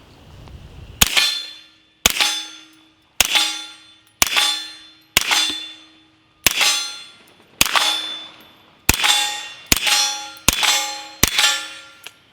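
A suppressed firearm shooting 124 grain subsonic rounds fires eleven sharp, close reports, each with a ringing metallic ping that fades before the next, spaced about a second apart and coming quicker toward the end.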